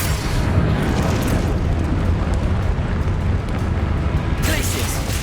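Confringo spell explosions in the Hogwarts Legacy game go off in a dense, loud run of booming blasts over a steady rumble of battle noise.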